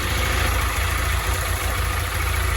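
Honda Start 160 motorcycle engine running with an abnormal internal noise, a loud, steady, rough mechanical drone held close up with no clear rev changes and no talking.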